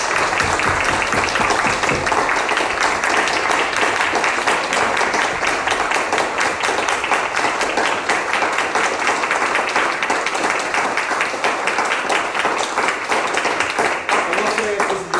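A church congregation claps throughout in dense, steady applause that stays loud from start to finish.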